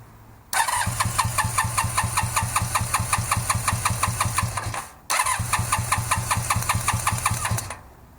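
A cafe racer motorcycle engine cranks over on the starter during a compression test with a gauge fitted, no choke, in two long bursts of rapid, rhythmic chugging separated by a brief pause, loud and close with no talk.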